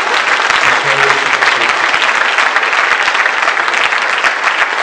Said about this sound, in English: Let's give Jesus a final hand clap for today.